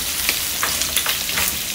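Pork frying in a pot for Jamaican corn pork, a close, bright crackling sizzle with small pops and stirring scrapes throughout the short stretch.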